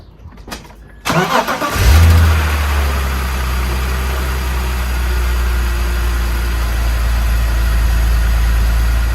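A BMW E46 330i Cabriolet, left standing for about a week, starts from cold: a few faint clicks, then a brief crank and the engine catching, settling into a loud, steady, close idle.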